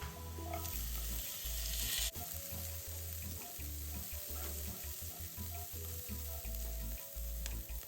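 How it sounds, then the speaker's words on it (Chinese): Dried shrimp stir-fry in a wok with a continuous close sizzle and scraping stir strokes, part of preparing lotus leaf rice, with no talking. "虾米炒香。"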